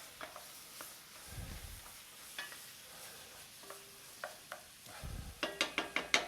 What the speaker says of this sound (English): I'm just gonna kind of mix those shallots into that.